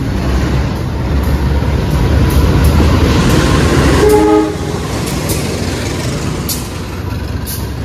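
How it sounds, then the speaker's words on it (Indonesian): Train being shunted backward toward track 3 at an Indonesian station, heading back to Cipinang depot: a steady, loud rumble of rolling railcars, with a brief horn-like tone near the middle before the noise settles a little lower. "Artinya ada langsiran mundur kereta ke arah jalur 3"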